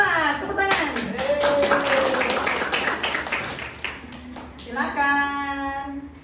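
Classroom quiz participants clap in a short burst of hand claps mixed with voices; children talk over and after the clapping.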